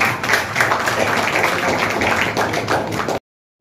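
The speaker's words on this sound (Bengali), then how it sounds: "একটা জোরে হাততালি হোক ওনার জন্য" Audience applause at an award ceremony honoring a teacher; dense, steady clapping from a crowd, fairly loud and close, sustained for about three seconds before cutting off abruptly.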